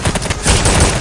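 Dense, continuous burst gunfire from Counter-Strike: Condition Zero Deleted Scenes, loud and close, with rapid overlapping shots running through the whole second and no voices.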